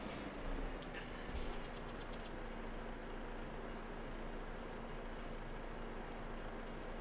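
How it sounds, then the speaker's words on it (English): A freight train rumbles past in a trucking video game, a steady low rolling drone with a faint tonal hum and a brief metallic clatter near the start, heard without talk. "I didn't beat the train."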